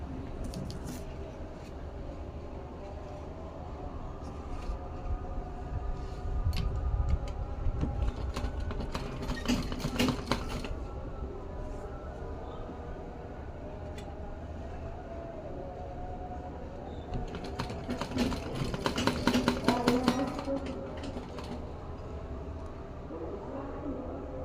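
A sewing machine stitches the seam of a baby's dress in two long, whirring runs with a quieter pause between them. Each run has a rapid mechanical chatter close by, and a low murmur of talk or room noise continues underneath.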